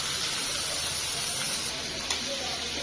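Potatoes and chopped onions frying in hot oil, a steady close sizzle and hiss that runs without a break.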